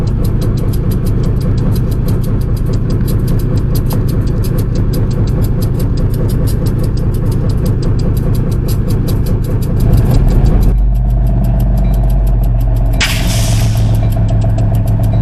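Beaufort & Morehead locomotive 1860 pulls away from its train as the brake air line breaks apart. A heavy diesel engine drones steadily up close, its note shifting as it pulls off, with a sharp hiss of escaping air near the end.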